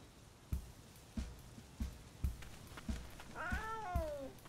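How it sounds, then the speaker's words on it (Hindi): A wild cat in a cartoon lets out one clear, drawn-out meow after a run of soft, evenly spaced thumps. "ये एक जंगली बिल्ली है और यही जगह इसका घर है।"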